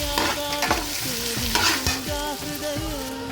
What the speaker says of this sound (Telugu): ఇప్పుడు ఇది బాగా ఫ్రై చేసుకోవాలి